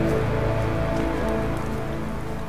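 Rain falling in the survival game The Forest, a dense, even hiss of drops on surfaces that fills the short stretch loudly and without break, with no voices.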